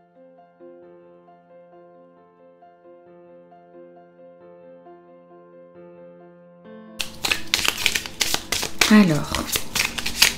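Soft music plays alone at first, then a dense burst of rapid, crisp flicking and riffling as a deck of tarot cards is shuffled up close, while a voice speaks briefly.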